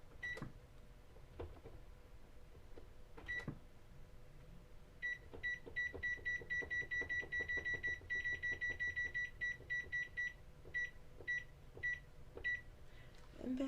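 Kitchen timer beeping repeatedly as it is set for 30 minutes while bread is being made, a quick run of short, evenly spaced electronic beeps with a few scattered ones before and after, close by over quiet room noise.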